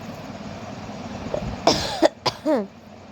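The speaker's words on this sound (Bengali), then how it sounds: "আর কাশি হচ্ছে জানেন তো শুকনো কাশি হচ্ছে" Dry cough from a woman, a few short harsh bursts near the end after a quiet stretch, close and fairly loud, with no speech.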